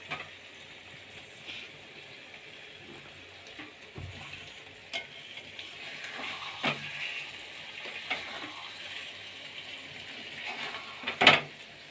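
Boiled potatoes coated in spices are stirred in a pan over a low gas flame, giving a soft steady sizzle broken by occasional scrapes and one sharp utensil clink near the end.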